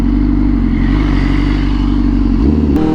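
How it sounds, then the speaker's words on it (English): Honda Fireblade 1000RR-R SP motorcycle engine at close range, a loud sustained mid-pitched roar that drops sharply as the auto blipper kicks in on a downshift near the end. "the auto blipper. Sounds so good."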